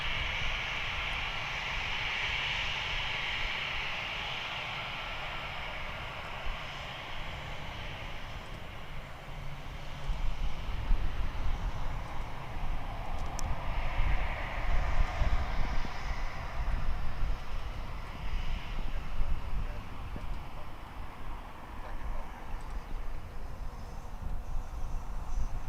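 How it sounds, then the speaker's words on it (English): A V-22 Osprey tiltrotor aircraft from Mildenhall flying over, a faint, distant droning rumble that swells slightly around the middle of the pass and stays low and steady throughout, with no talking. "It could well be a V-22 Osprey from Mildenhall."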